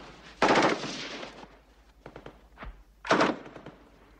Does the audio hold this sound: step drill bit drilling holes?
no